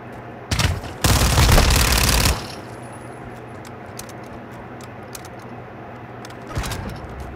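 Gunfire in Call of Duty: Modern Warfare II: a sharp shot followed by a dense, loud burst of automatic fire lasting over a second, then quieter background, with another distant shot near the end.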